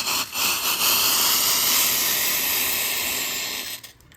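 Strained tea water pours steadily into a pot of soaked chickpeas, a loud continuous hissing splash lasting about four seconds before it tapers off, with no speech.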